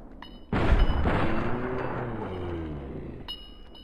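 A single loud gunshot in Fallout: New Vegas, a heavy booming blast followed by a long rumbling, reverberant decay that fades over a few seconds.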